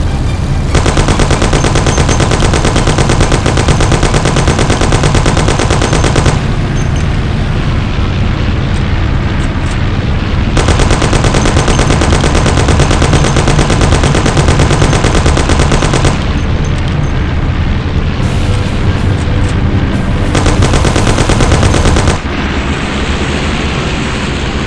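Loud sustained gunfire in a Mafia video game shootout, long bursts of rapid machine-gun shots with booming reports, continuous and close with brief shifts between volleys.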